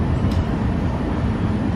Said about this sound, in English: Well, it's a quiet train today.